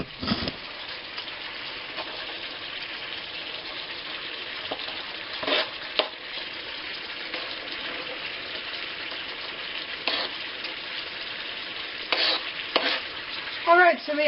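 Onions frying in a pan in a home kitchen, a steady hiss and sizzle running throughout with occasional stirring clatters and no talk.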